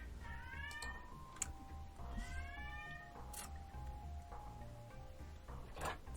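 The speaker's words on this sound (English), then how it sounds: "It's my cat" A cat meows repeatedly indoors, several drawn-out rising and falling calls spread across a quiet room with a low steady background hum.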